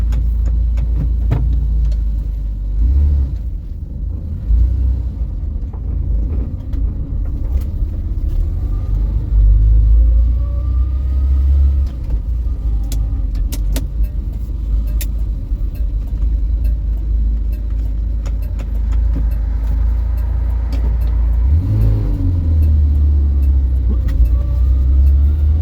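A barn-find 1975 Vauxhall Viva HC runs with a worn gearbox that may be low on oil, giving a loud, steady low rumble throughout with brief dips in level early and near the end.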